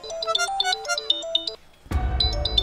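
A mobile phone ringtone plays a melodic electronic tune of repeated note phrases, stops briefly after about a second and a half, then resumes louder with a low rumble underneath, fairly close.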